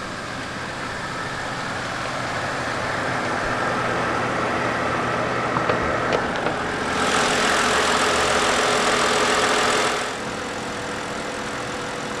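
2010 BMW 323i with the N52 2.5-litre straight-six idling at a steady low hum, with a short louder, brighter surge of engine noise partway through before settling back to idle.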